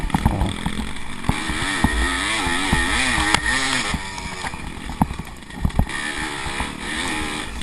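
A 1986 Yamaha IT 200 two-stroke dirt bike racing in a 55+ class scramble, its engine loud and close, with a steady high-pitched drone that rises and falls as the rider revs and shifts.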